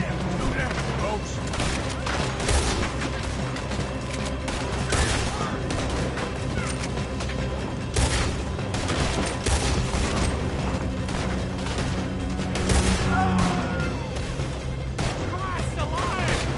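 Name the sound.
gunfire in a video game shootout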